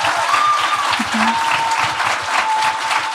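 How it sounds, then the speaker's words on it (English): Audience applause fills a live podcast show, a dense steady clatter of many hands clapping at close range, with a few brief cheers and whistles riding over it for the full length. "Give yourselves a round of applause for making it out to the show."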